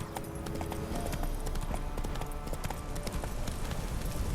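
Horse hooves clip-clop in a steady trotting rhythm in The Witcher 3: Wild Hunt, close and continuous under quiet game ambience.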